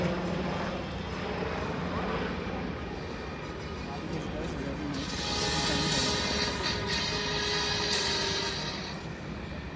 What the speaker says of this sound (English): here we have the light combat helicopter, the prototype right in front of us